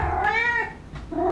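At feeding time a cat gives a drawn-out, rising-then-falling meow, followed by the start of a second, shorter meow, close and clear with no talking.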